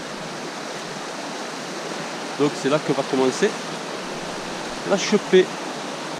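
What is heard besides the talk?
rushing river stream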